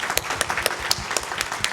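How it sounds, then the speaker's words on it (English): An audience at an artist talk applauds scholars and artists, a brisk patter of many hands with a few sharper individual claps standing out, fairly close and continuous. "Let's give them a round of applause again."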